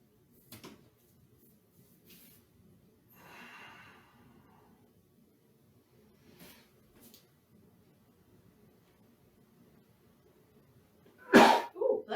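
A person sneezes sharply once near the end of a quiet yoga class, followed by a shorter second burst, after long stretches of near silence with faint breathing and movement.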